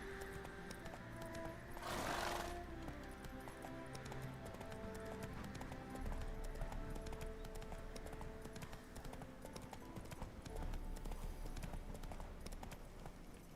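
Roach, Geralt's horse in The Witcher video game, walks with steady clip-clopping hooves over game music and ambient sound. A brief neigh-like burst stands out near the start.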